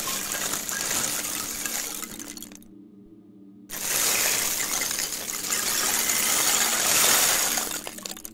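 Small wooden kapel shaker, rattling in dense granular bursts with a brief silent break midway, then shaking resumes loud and steady.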